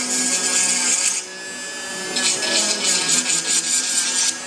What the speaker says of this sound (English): That's why I like to have a handy tool like this wireless Dremel.